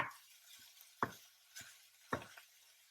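Soft sizzling of minced meat in a pan, with a few sharp scraping knocks of a utensil stirring at irregular intervals; fairly quiet.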